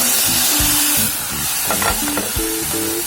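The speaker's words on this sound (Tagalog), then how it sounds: "Pa-brown-brown lang onte bago natin maglagay ng bawang sibuyas." Pork sizzles and fries in a hot pan for sinigang, with steady crackling and a few stirring scrapes close by, with no talking over it.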